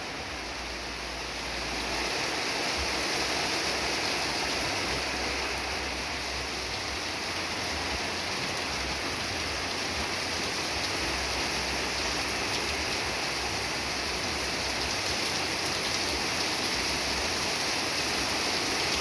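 Heavy rain pours down in southeast Georgia, a dense, continuous roar of falling water that swells after the first couple of seconds and stays loud and unbroken throughout.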